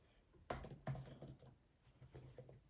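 Several quick keystrokes on a computer keyboard, entering a word into a search box: a few sharp clicks cluster near the start, followed by softer, irregular taps over a quiet room background.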